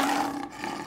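A lion's roar used as a phone ringtone, recorded in Africa, plays as one loud continuous growling roar that stays full and sustained through the moment with no talk over it.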